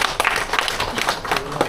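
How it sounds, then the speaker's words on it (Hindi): An audience applauds at a leadership talk, with dense, steady clapping from a crowd throughout, fairly loud and close, with no voices over it. "आप सभी के लिए जोरदार तालियां विक्रम जी के लिए।"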